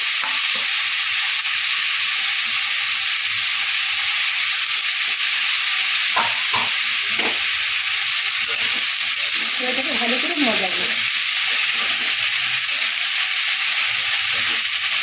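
Winter vegetables frying and being stirred in oil for a shrimp chorchori, a steady broadband sizzle running throughout with a few sharp spoon knocks and a short burst of scraping stirring midway, no talk.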